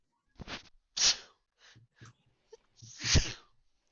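Several short breathy bursts build up to a loud sneeze, with quieter sniffs and breaths in between, heard close and alone.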